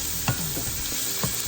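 A wooden spoon stirs creamy salmon pasta in a pot, making a few soft scraping strokes over a low, constant sizzle with no talking.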